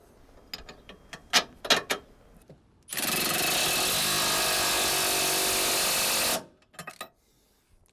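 Power tool or ratchet tightening a tow bar fixing bolt on a Range Rover 4.4 TDV8, with a loud, steady whirring burst of about three and a half seconds, preceded and followed by scattered metallic clicks and clunks close by.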